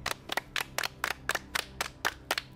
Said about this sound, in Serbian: Aplauz